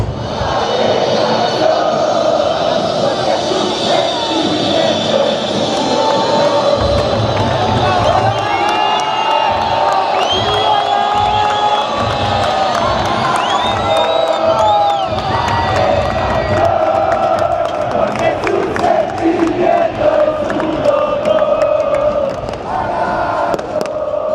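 Colo-Colo's active supporters' section cheering and chanting inside a packed stadium in Chile, a dense, loud crowd roar with shouts and whoops running continuously throughout.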